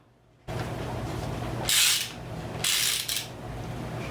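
Screws being driven in by hand during installation of a Rekluse RadiusX auto clutch on an Indian Scout motorcycle, heard as two bursts of ratcheting, rubbing mechanical clicks over a steady low hum.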